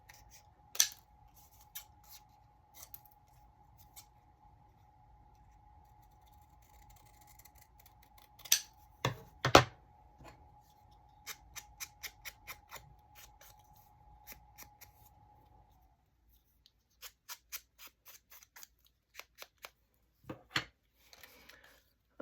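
Scissors cut paper images for a mixed media craft layout, giving faint, scattered snips and crisp clicks in irregular bursts against a quiet room, with a steady faint tone in the first two-thirds.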